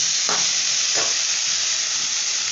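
Onions with chilli powder hiss and sizzle in a hot pan, a loud continuous fry broken by two scraping stirs near the start, with no talking.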